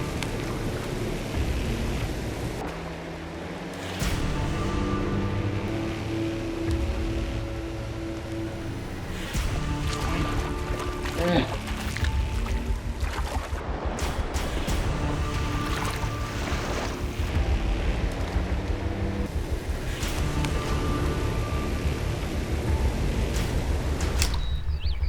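Rushing water of a raging salmon stream in grizzly bear country, a steady loud broadband roar and splash running unbroken throughout, with some tonal sound layered over it.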